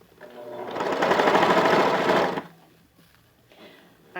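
Sewing machine runs a steady, dense zigzag stitch for about two seconds, attaching elastic to cotton fabric on a child's panties, then stops and leaves faint handling noises.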